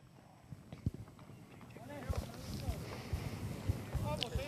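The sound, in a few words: polo ponies' hooves clip-clopping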